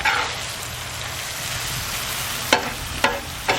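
Cheesesteak meat and melting cheese sizzling on a grill, a steady close crackle with a few sharp scraping clicks near the end.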